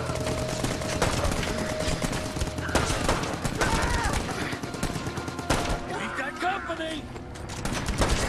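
Gunfire in the WWII shooter Brothers in Arms 3: repeated sharp shots and bursts cracking through a busy battle mix, steady and loud across the whole stretch.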